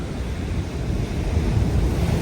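Heavy sea surf churns and roars along the shore during a fishing trip, a steady close wash of breaking water mixed with wind buffeting the microphone.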